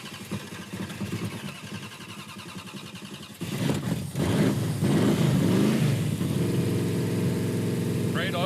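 A Dodge Coronet with a rough-running engine cranks over and fires, then settles into a loud, lumpy idle with throttle blips, close by, while people talk nearby.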